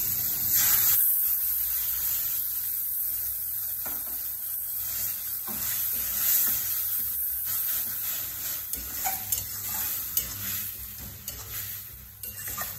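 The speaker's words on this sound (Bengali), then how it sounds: "যে মশলাগুলো তোমাদের দেখালাম বন্ধুরা, সেই মশলাটাকে এবার আমি এর মধ্যে দিয়ে দেবো" Spice paste for a Bengali katla fish jhal curry hitting hot oil in a pan, a soft spraying hiss with scraping and stirring scrapes that grow more frequent toward the end, close and moderately quiet, with no talking.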